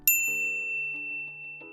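A bright notification ding rings out once near the start, a clear bell-like chime with a sustained tone that fades slowly over under two seconds, with no voices.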